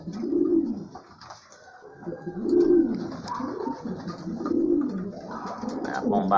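Pigeons cooing close by in a loft, several soft throaty coos repeating in a steady rhythm over faint background noise, with no talking.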